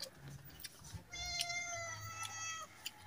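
A single drawn-out meow with a rising, wavering tone, heard close against a quiet room with faint background murmurs.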